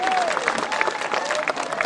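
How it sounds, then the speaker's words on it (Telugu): A crowd claps loudly and continuously at a municipal election campaign rally in Station Ghanpur, with dense, sustained applause filling the whole moment and some voices mixed in. "గట్టిగా చప్పట్లు కొడతాం."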